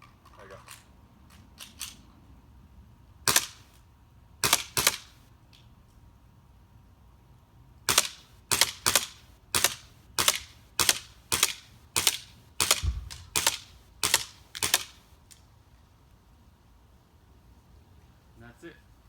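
An Elite Force 1911 Tac airsoft pistol fires quickly: a few sharp, close cracks, then a fast string of about a dozen snappy shots in quick succession over a quiet background.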